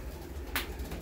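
Pigeons in a loft with young birds give soft low coos, broken by one short sharp burst of noise midway through.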